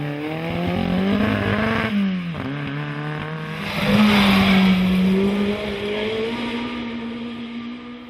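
Historic rally cars, a pair of Hillman Imps and Porsches, race hard, engines revving and shifting pitch through gear changes with a louder surge midway, continuous and fairly close.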